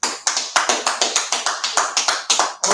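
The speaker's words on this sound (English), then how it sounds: "Clap it up, man." Hands clapping in a quick, regular rhythm of sharp close claps, about five per second, heard on their own without talk.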